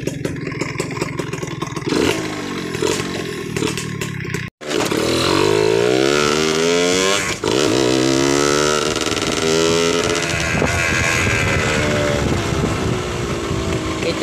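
A Suzuki SS110 motorcycle fitted with an RXZ carburetor runs loudly up close, its engine rising and falling through repeated revs, with a brief cut-out partway.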